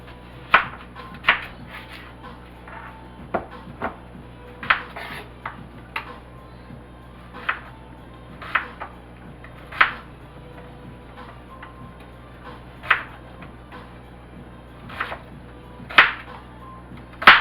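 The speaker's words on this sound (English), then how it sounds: "We're going to cut up our onion." A peeled onion is cut with a knife on a board: sharp, separate chopping knocks land roughly once a second, some in quick pairs, clear and close against a quiet background.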